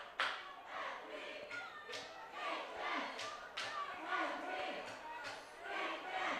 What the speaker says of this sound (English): Cheerleaders continue to cheer for them.